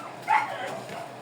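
A single short, high-pitched bark or yip from a white dog, close by, followed by faint background noise.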